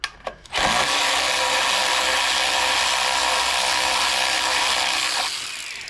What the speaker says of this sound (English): remove the 10mm nut from the back side that's holding the housing on